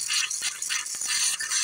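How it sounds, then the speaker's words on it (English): Air trapped in a household water line sputters and spits from a bathroom sink faucet, a loud, continuous hissing spray broken by irregular bursts and gurgles, with no voices. "As you can hear the air in the line."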